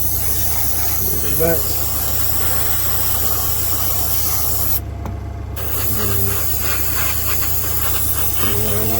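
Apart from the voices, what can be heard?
spray painting a Parkside van model kit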